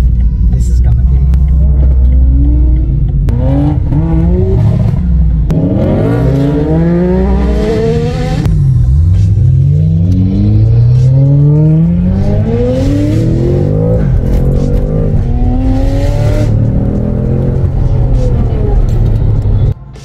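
A Nissan Skyline GT-R engine revs repeatedly, its pitch climbing and falling in sweeping bursts, loud and close, with steady rumble underneath and voices now and then.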